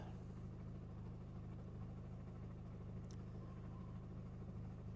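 A 2008 Honda Accord engine idles smoothly with a steady low, even hum, quiet and close, with no misfire at idle and no talking.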